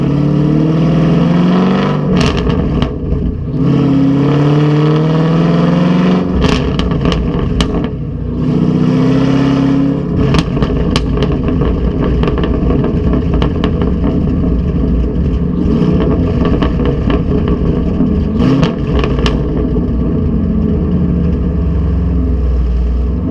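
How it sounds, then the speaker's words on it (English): A car with Texas Speed 1 7/8 inch headers drives hard, its loud exhaust roaring through revs and gear changes with crackles and pops between pulls, heard close from outside the pipes, no talking. "You'll notice at first it kind of pops and gurgles a lot whenever the pipes are cold and stuff."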